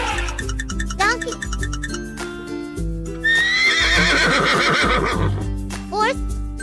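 Horse neighing in a cartoon farm animal sequence, several loud whinnies over background music with clip-clop hoofbeats, no talking.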